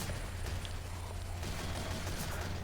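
Continuous automatic gunfire from a Team Fortress 2 match, a steady dense rattle of shots running the whole time at moderate loudness, with no talking.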